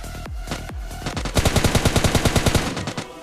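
Gunfire in PUBG Mobile Lite: two sharp single shots open, then a fast loud automatic burst of evenly spaced rounds runs for about two seconds before stopping, with no talk over it.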